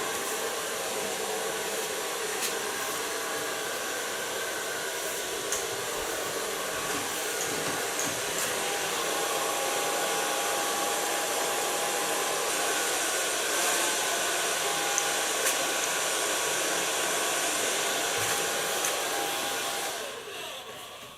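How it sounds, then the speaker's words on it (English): A hair dryer blows steadily on hair, giving a loud, continuous airy roar with a faint whine that runs unbroken for about twenty seconds before winding down at the very end. "So far blow drying."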